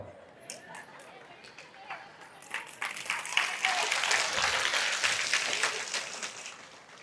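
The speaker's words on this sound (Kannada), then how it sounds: "ಚಪ್ಪಾಳೆ ನೋಡ್ರಿ, ಅದಕ್ಕೆ ನಿಮಗೆ ಕೇಳಂಗಿಲ್ಲ." Audience applause at a religious gathering, a Kumbhabhisheka ceremony at Yadur, swelling from scattered claps into sustained clapping across the crowd, with faint chatter underneath.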